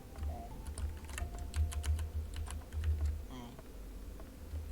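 Quick clicks from a computer keyboard with a faulty key come in an uneven burst of keystrokes during play, fairly faint over low background hum and a brief tonal sound near the end.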